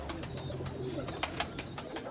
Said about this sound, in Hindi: ये एक जोंचना कबूतर है